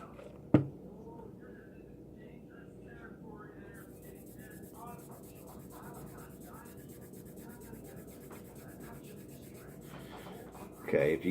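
Soft, close rubbing over a stamped marking on a Magnum Research Desert Eagle pistol during color fill, a low continuous scrubbing with a sharp tap near the start and a small knock at the end.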